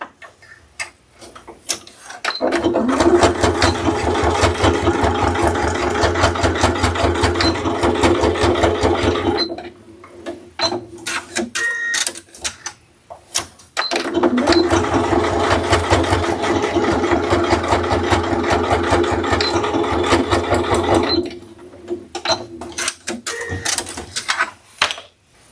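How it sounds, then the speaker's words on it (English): A sewing machine stitches two rows along a purse strap to secure a tri-glide, running in two long steady bursts of rapid needle ticking with a short pause between them and a brief stop near the end, close and alone. "bring that folded edge up and run 2 rows of stitching to secure that tri-glide to one end of the strap"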